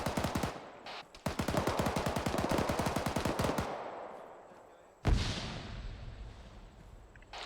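Automatic gunfire in the military shooter game ArmA 3: a long burst of rapid, evenly spaced shots from close by, a short pause, then a single loud blast that fades out. Players talk over the shooting.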